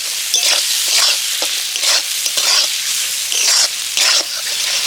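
Chopped tomatoes and spices sautéing in a pan for a Bengali potol and masoor dal dish, a close sizzle rising in repeated bursts as the mixture is stirred and scraped every second or so.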